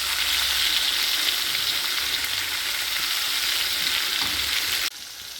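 Sweet corn kernels coated in cornflour crackle and sizzle loudly in hot oil for chilli corn. The hiss holds steady, then drops off sharply near the end.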